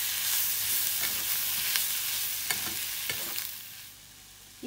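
Boiled potato stuffing for kuzhipaniyaram is stirred and sautéed in a sizzling pan: close frying hiss with several scraping stirs, easing off toward the end, with a small clatter at the close.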